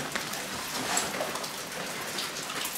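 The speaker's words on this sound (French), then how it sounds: "Voilà, là, il pleut sa mère" Heavy rain falling on surfaces inside a leaky abandoned building, a dense, steady hiss of drops with scattered close patters, continuous and moderately loud, no voices.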